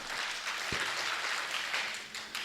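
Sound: audience applause

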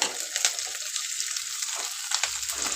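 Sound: ginger garlic paste frying with onions

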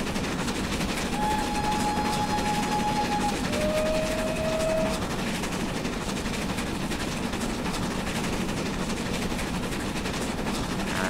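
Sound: steam locomotive pulling a train in Train Simulator video game

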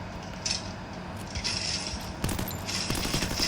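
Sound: gunfire from the Free Fire video game

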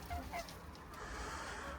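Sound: chickens clucking in a coop

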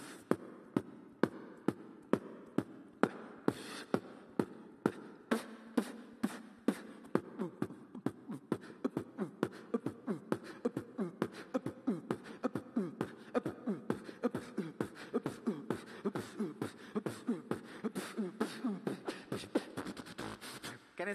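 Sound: beatboxing imitating techno house music beat

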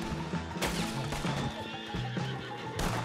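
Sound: horse neighing in video game Red Dead Redemption 2

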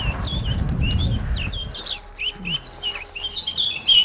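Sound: songbird song played from a speaker

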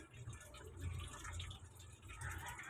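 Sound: water filling a container for laundry

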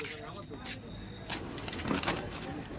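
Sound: pigeons cooing

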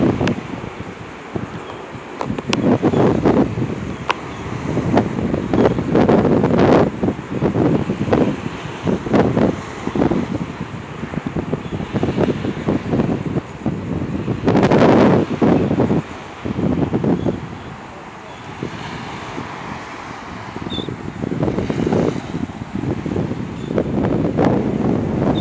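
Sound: wind on a beach

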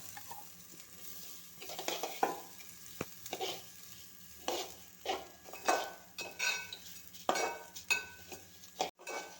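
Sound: washed rice being roasted in a pan

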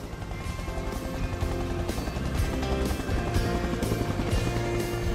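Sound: helicopter at a helipad on an ex-Navy vessel

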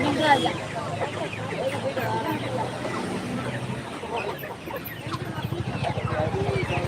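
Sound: chickens at a market

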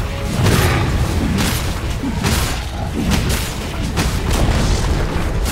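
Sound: tower destroyed in video game Dota 2

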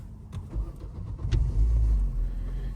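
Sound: Opel Zafira B engine starting with the ignition key

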